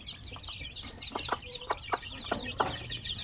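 Native Basilan chicks, some only days old, peeping in a repeated run of short high chirps over low farmyard noise, with faint clucking from fowl nearby.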